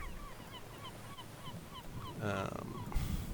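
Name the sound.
nesting seabirds calling on small islands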